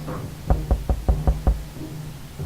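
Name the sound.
door sound in video game 60 Seconds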